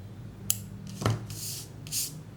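Scissors trimming the yarn ends of small crocheted roses for a keychain bouquet, a few quiet separate snips and rustles spaced across two seconds.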